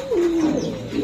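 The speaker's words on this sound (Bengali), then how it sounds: "হাবিব রে ভাই, এটা কি কবুতর?" A single close, clear coo from a Pakistani teddy pigeon chick at a pigeon show, one soft descending throaty call lasting under a second.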